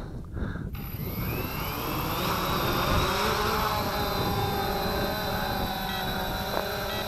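A Cheerson CX20 GPS quadcopter drone flies in a breeze, its motors giving a steady close buzzing whine with shifting tones over rough wind noise, preceded by a brief handling clatter at the start.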